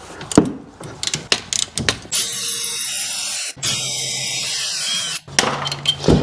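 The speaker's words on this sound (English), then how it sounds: "now we can loosen and remove these two caliper slide pin bolts here." A ratchet wrench loosening the 14 mm caliper slide pin bolts on a 2021 Kia Telluride, with a few sharp clicks, then a sustained mechanical whirr, a brief break, more whirring and a final burst of clicks.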